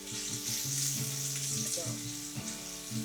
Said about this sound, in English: Nice little sizzle going on here. Gonna cook this bacon